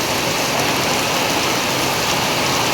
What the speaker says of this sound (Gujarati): ભાભરની અંદર હાલ ધોધમાર વરસાદ પડી રહ્યો છે